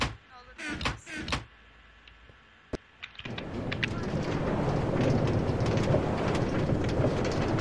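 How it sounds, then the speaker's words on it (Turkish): In a video game, a train heading to a house rolls along its tracks, a steady rumbling rush that builds and holds after a few sharp clicks and bumps. "John'un evine giden tren"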